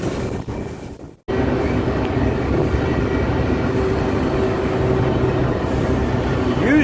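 A BNSF train rolling along the Southern TransCon main line between Needles and Winslow, a loud continuous rumble of wheels on rail with a brief dropout near the start, then steady running with faint squeal and hum.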